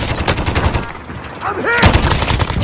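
Rapid gunfire rattles in Call of Duty Warzone, with loud bursts throughout, a short lull partway, then heavier shots under game effects and faint voices.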